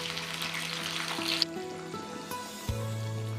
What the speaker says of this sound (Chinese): 锅里的汤汁收浓稠了，再给它淋上来。